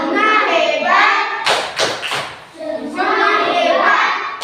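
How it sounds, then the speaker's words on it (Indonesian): A group of schoolchildren in a morning classroom claps together for a classmate, a short burst of sharp, overlapping hand claps set between stretches of loud chanting children's voices. "Mari kita tepuk tangan untuk Juna dulu."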